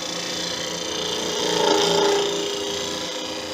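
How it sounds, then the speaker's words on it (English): A shear-scraping tool cutting a spinning wood turning on a lathe, a continuous close rasping scrape over the lathe's hum that swells louder in the middle before easing back, with no voices. "Now I'm going to try and shear scrape the rest of this shape in."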